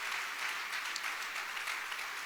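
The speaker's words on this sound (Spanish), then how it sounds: "¿Quién puede darle un fuerte aplauso al Rey de Gloria," A church congregation applauds during a worship service, a soft, even patter of many hands clapping at a distance, faint and continuous, with no voices over it.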